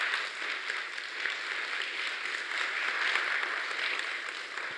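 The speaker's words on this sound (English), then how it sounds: "round of applause for our wonderful presenters" Sustained applause from a conference session audience for the presenters of a panel at JNUC 2022, a steady, dense wash of many hands clapping at moderate distance with no voices over it.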